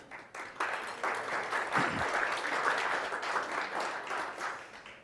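An audience at an Open 3D Foundation conference welcome session bursts into applause, dense clapping that swells within the first half-second and carries on steadily to the end.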